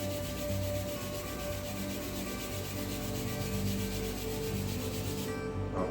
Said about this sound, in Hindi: उसके बाद दोनों हाथों को रब करेंगे।